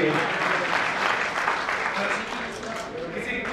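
Audience applause at an alumni meet, a broad steady patter of clapping from a gathered crowd, moderately loud and continuous, with voices faintly underneath.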